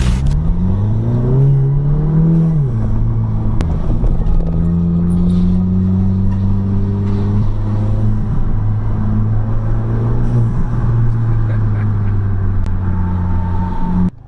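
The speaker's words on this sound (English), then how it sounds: "The sound out of this thing now, from the whooshy intake noise to the blow off" A 2019 Volkswagen Golf GTI engine revs up and holds with a droning rise and fall, loud and close, with a whooshing intake and a blow-off from the turbo.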